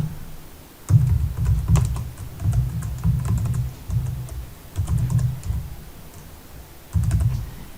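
Bursts of keyboard typing on a computer keyboard while entering an email address, clustered rapid clicks in several runs separated by short pauses, close and clear with no voices.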